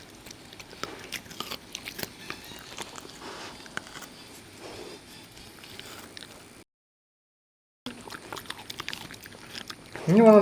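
Dogs biting and chewing on unprocessed dates, with soft intermittent crunching and smacking close up, a brief silent gap, and a sudden louder burst at the end.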